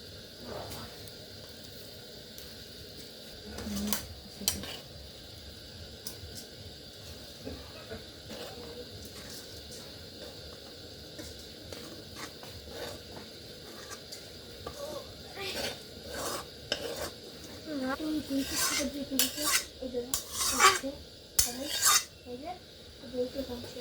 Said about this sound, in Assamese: আৰু এতিয়া মই ফ্ৰাই কৰি লোৱা চাউলখিনি ডেচকিত এড কৰিছোঁ।